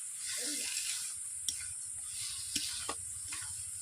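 Egg and potato sautéing in a pan for Bengali egg curry, a steady soft sizzle with a few faint clicks of a spatula, quiet and continuous.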